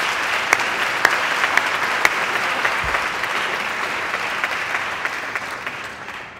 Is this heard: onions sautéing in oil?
no